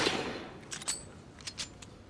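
Fireworks pop outside, faint and distant, a handful of scattered sharp cracks in two small clusters over quiet room tone.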